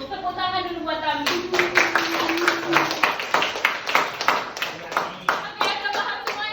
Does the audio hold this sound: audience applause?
yes